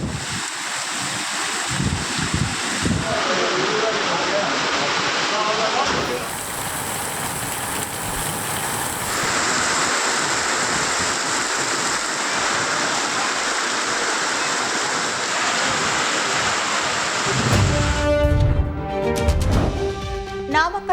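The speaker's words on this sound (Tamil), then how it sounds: "ஆகாய கங்கை நீர்வீழ்ச்சியில் ஆர்ப்பரித்து கொட்டும் தண்ணீரில் சுற்றுலா பயணிகள் குளித்து மகிழ்ந்தனர்" Aagaya Gangai waterfall in the Kolli Hills swollen by heavy rain, a loud continuous roar of falling water, shifting slightly in texture, with a burst of nearby voices near the end.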